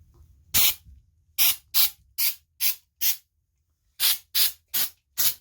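Artificial snow sprays from an aerosol can onto branches in a bathtub, a rapid series of about ten short, sharp hissing bursts, close and crisp, separated by brief silent pauses.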